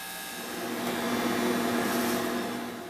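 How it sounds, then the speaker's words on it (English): Electric hair clippers shaving hair during an at-home men's undercut, a steady close buzzing motor drone that swells slightly as it presses against the head, with no talk. "you're going to basically just shave all the hair that isn't clipped, and I'm going to do that right now"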